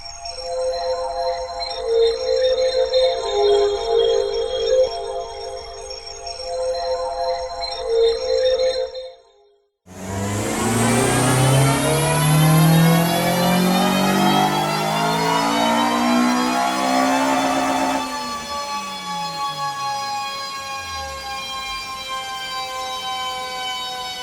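Honda Civic Type R EP3 with a K20 engine on a rolling road dyno: after a brief cut, a loud rising rev sweep climbs steadily through the gears' worth of pitch toward redline, then eases off and winds down, alone without talk.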